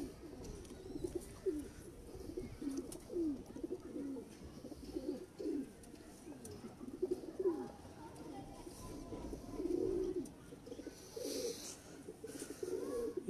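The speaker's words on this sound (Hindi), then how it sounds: "ये दोस्तों बिल्कुल जेन्युइन कबूतर हैं, कोई क्रॉस नहीं इन कबूतरों में" Pure-bred pigeons from the Mian Nazeer bloodline coo repeatedly in a loft, a run of low throaty calls close by, with someone talking intermittently and a brief higher rustle near the end.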